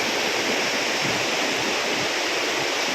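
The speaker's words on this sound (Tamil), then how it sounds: "அந்த அருவியிலேருந்து வரக்கூடிய தண்ணிங்க." A constant, loud roar of rushing water from a waterfall, dense and unbroken for the whole stretch.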